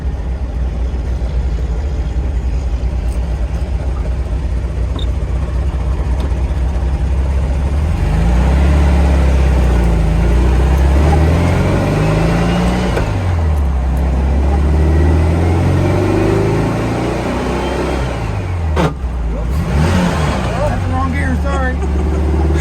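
A 1967 Volkswagen Karmann Ghia running and driving, its low engine drone rising and falling with gear changes under steady conversation from people inside the car.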